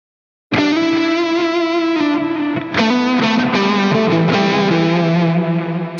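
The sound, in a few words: guitar through Wampler Catacombs pedal delay and reverb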